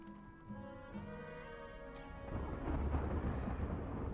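Thunder rolls through a stormy scene in The Banner Saga 2, starting with a tonal musical backdrop before a deep, swelling rumble builds and holds loud through the second half.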